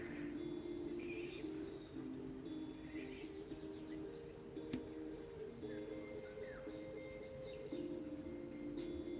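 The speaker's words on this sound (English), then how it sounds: "that bird that sounds like a cat" Faint outdoor bird calls, including a cat-like mewing bird, sound as short chirps and squeaky notes scattered over a steady hum and soft background noise.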